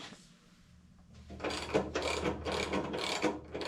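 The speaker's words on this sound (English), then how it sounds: "loosen this nut up and we can take the bottom pieces off." A ratchet wrench loosening a nut on the front end of a 1976 Harley-Davidson FLH: after a quiet moment, a quick series of close, crisp clicking strokes in a regular rhythm.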